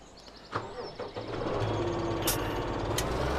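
Tractor in Farming Simulator 17 starts up with a few clunks and a rising mechanical whir, then settles into a steady engine drone that carries on to the end.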